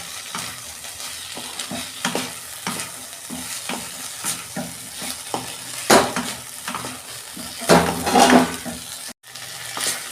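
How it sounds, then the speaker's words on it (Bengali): Mixed vegetables frying in oil for a vegetarian bitter gourd curry are stirred in a pan, the steady sizzle broken by repeated scraping strokes and a couple of louder stirs, with no talking. "আমি এবার একটু হালকা নেড়ে চেড়ে তারপর জল দিয়ে দেবো।"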